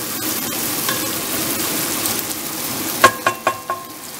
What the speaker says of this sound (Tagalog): habang ginigisa yung sibuyas, kamatis, at saka yung pork